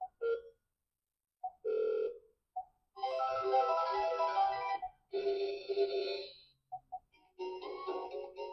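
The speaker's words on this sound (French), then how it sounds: "ça c'est l'alarme de l'appareil en fait" A device alarm plays an electronic ringtone, short beeping tones building into louder multi-tone ringing phrases with brief gaps, close and clear with no talking.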